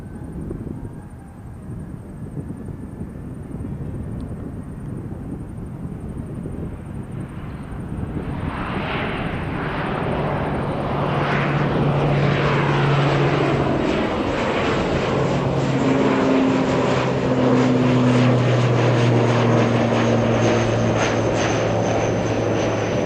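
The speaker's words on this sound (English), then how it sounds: "Right, so we have some another takeoff." A propeller plane takes off, its engine drone swelling from a distant hum to a loud, steady roar with rising and falling tones over about twenty seconds, heard alone at a plane-spotting spot.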